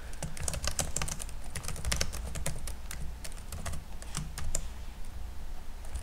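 Steady, rapid typing on a computer keyboard while working in the WebStorm code editor, crisp key clicks coming in quick irregular bursts close to the microphone, with no talking.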